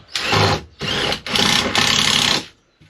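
Several bursts of a handheld drill grinding into wood, rough and raspy, close and loud, separated by brief pauses before the last burst trails off.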